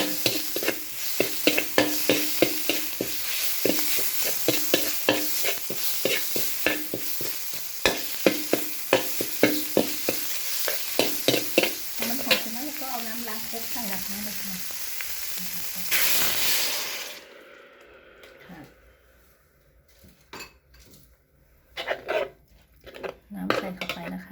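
Bamboo shoots stir-fried with fried garlic in a pan, giving steady scraping and clattering of a utensil against the pan over a continuous sizzle, loud and close, then quieter scattered kitchen clinks toward the end.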